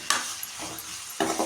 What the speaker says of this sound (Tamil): ஒரு மிக்சிங் கொடுத்துக்கோங்க. நல்லா வதங்கி வரட்டும்.